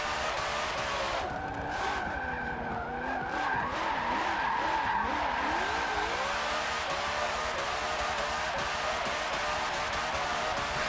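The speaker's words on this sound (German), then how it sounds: "Es ist so krass, wie die Karre nur am Durchdrehen ist." Forza Motorsport 7 race car spinning its wheels and skidding at high speed, a continuous loud tire squeal with wavering pitch over a steady engine drone, sustained for the whole stretch without talk.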